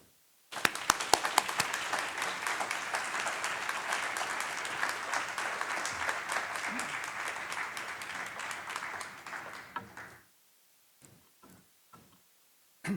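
Audience at a gerontology conference applauding to welcome a keynote speaker, dense sustained clapping from a crowd for about ten seconds that fades, followed by a few isolated claps and quiet.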